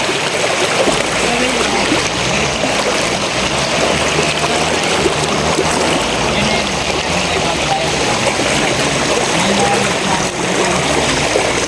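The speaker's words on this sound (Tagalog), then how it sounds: "Malakas yung agos." A strong river current rushes, roaring continuously and loudly close by in Nacar, Quezon Province, a dense steady wash with faint splashing and no clear pauses.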